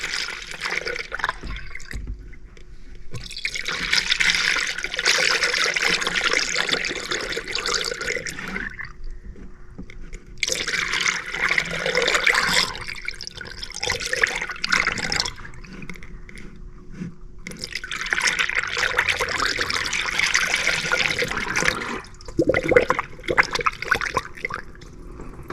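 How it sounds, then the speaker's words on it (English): Pre-diluted coolant is poured into the cooling system of a 2014 Dodge Grand Caravan in three separate bursts, each a close, splashing gurgle of liquid with quiet pauses between. "All right, go ahead and add some coolant. And this is the pre-diluted stuff, so no need to add water."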